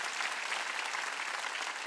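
A congregation at a Wednesday evening church service bursts into brief, vigorous clapping, a continuous crowded patter of many hands at constant loudness from start to finish.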